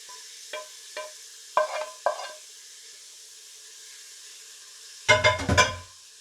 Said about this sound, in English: I still have my onions in this pan sauteing